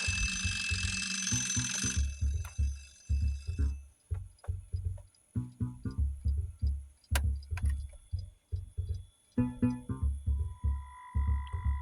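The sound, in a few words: alarm clock ringing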